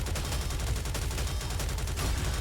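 Dense, rapid gunfire from the video game NIKKE rattles on without pause, a loud, continuous barrage of overlapping shots.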